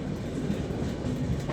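A Haridwar–Mumbai LTT AC superfast express train makes a continuous low rumble with faint wheel clatter, heard up close and without talk.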